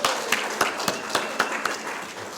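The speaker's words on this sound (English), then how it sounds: "just a round of applause for our music people" A scattered round of applause for musicians at a Sunday gathering, with individual claps standing out, moderately close, fairly light and brief with no talking.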